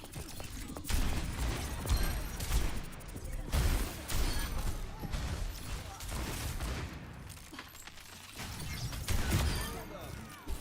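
Rapid weapon fire crackles through an Overwatch match while shooting at Mercy, with overlapping bursts, impacts and mechanical game effects under a player talking throughout.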